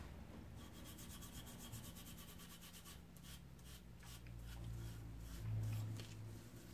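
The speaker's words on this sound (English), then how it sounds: "I don't want to destroy the mark by scrubbing on it too hard" Scrubbing on the beech and boxwood body of an old wooden molding plane makes a steady, close rubbing and scraping sound that swells slightly near the end.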